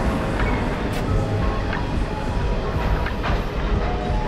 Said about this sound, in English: I'll wait till the train goes past.